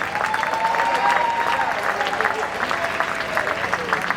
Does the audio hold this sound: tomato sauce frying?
no